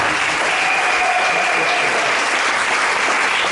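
A church congregation applauds at a Sunday service, dense continuous clapping filling the room at a steady loud level throughout.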